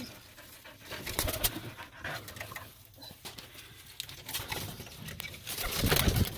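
James Turner roller pigeons shuffle and flutter close by in a loft, with soft pattering, scratching and wing rustles, under a noisy, busy background.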